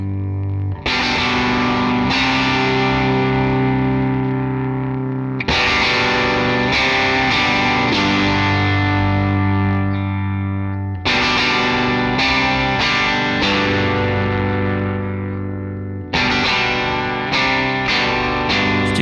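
Electric guitar played through a Defects Arrow overdrive pedal, a Klon clone, set as a maxed clean boost: loud, thick sustained chords strummed in long ringing phrases, alone with no talk.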